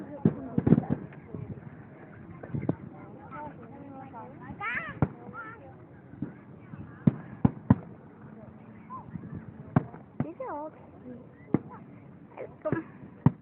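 Fireworks bursting over a Fourth of July celebration, with a series of sharp booms and crackles at irregular intervals, some near and loud, mixed with people talking and exclaiming between the blasts.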